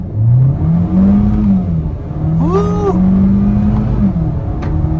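A 2022 Kia Soul Turbo accelerates hard from a stop, engine pitch climbing through gears, with a brief excited whoop from a person near the end.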